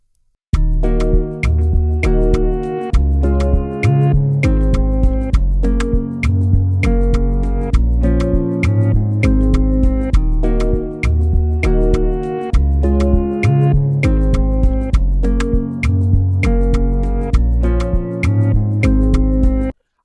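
Deep Afrobeats bass notes pulse under a bright, plucky guitar pattern in a loud, full mix. The groove loops steadily for twenty seconds, with no voices.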